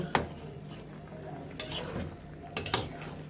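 A spoon scrapes and knocks around a cooking pot while soybean curry is turned over, giving a few distinct metallic clanks spread over a low background with a faint simmer.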